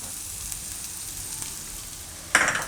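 Chopped onion and green garlic frying in a pan, giving a soft, steady sizzle that is faint and close, followed by a sudden brighter burst of hissing in the last moments, with no voices.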